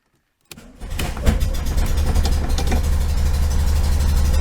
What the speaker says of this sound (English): Let's take it for a quick drive. So let's get it cranked up here.